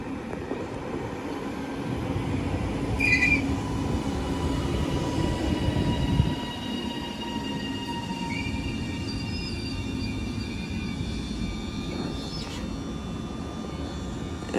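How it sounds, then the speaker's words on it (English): A double Class 331 electric multiple unit pulls out of St Helens Junction bound for Manchester Victoria, its low rumble steady and moderately near, swelling slightly before easing. "Train now departing is a double 331 going to Manchester Victoria."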